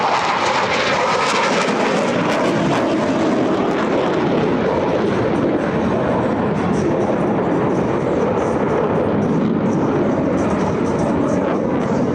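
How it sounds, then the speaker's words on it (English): US Navy Blue Angels jets cross over show center at the 2025 Wings Over South Texas air show, producing a loud, sustained jet roar that fills the air for the whole stretch. "watch as both pilots sustain 6 times the force of gravity to cross their aircraft over show center"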